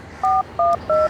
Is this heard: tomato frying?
no